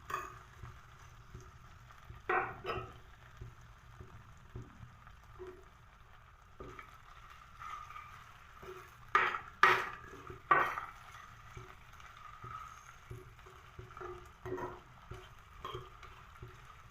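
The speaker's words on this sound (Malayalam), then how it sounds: "രണ്ടും കൂടെ ചേർത്ത് നല്ലവണ്ണം ഇളക്കി കൊടുക്കുക." Potatoes are stirred in a curry pot, soft scraping and clinks of a spoon against the pot over a faint low sizzle, with a few louder knocks midway, close but quiet and without speech.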